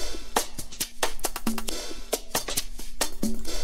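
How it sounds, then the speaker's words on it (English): Punchy chopped percussion hits in a choppy, slightly uneven rhythm, short sharp clicks and thumps repeating quickly with a faint tonal ring underneath. "The percussion sounds like this on its own."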